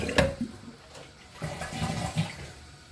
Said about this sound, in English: Now let's flush it.